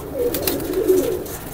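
Soft cooing from a female cross-bred highflyer pigeon in a loft, a low murmuring coo that rises and falls across the moment, close by and moderately loud with no talk over it.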